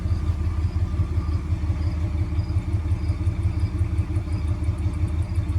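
A 1972 Chrysler Imperial's 440 big-block V8 idles at night after a cold start, with a steady, deep, throbbing rumble and a faint mechanical clatter, continuous and close.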